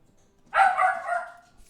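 A dog lets out a single drawn-out bark that trails into a yelping whine, fairly close and alone against a quiet room.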